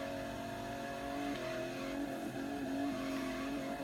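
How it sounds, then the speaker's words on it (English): An old pickup truck drifting in the racing game Forza Horizon 3, its engine droning loud and steady at high revs, with tire squeal and pitch wavering as the slide continues. "you can drift in a truck, and look at that drift chain"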